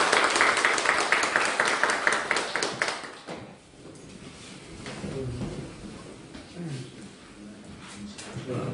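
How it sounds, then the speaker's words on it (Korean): Audience applause welcoming a lecturer to a Korean standards course lecture: dense clapping for about three seconds, then fading into scattered claps and murmuring voices. "박수로 맞아주시기 바랍니다"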